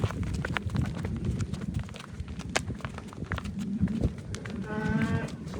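Cattle, including a pregnant buffalo and heifers, are kept at a farm in Tarn Taran, with shuffling hooves and movement close by, a brief moo-like call near the end, and steady background noise.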